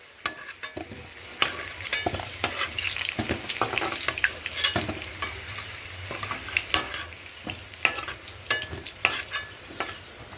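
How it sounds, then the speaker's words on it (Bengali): Potatoes fry in hot oil in a pan, giving a soft continuous sizzle broken by repeated sharp scrapes and clinks of a spatula stirring them, close up with no talking. "ভালো করে লাল লাল করে ভেজে নেব"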